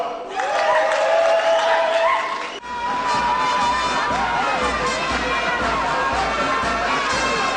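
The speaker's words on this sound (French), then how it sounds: "Les applaudissements nourris des militants et sympathisants témoignent du soutien qu'ils accordent aux candidats" Party activists and supporters at a political campaign rally keep up loud, sustained applause and crowd noise, with cheering and shouts mixed in and a brief dip partway through before the din resumes.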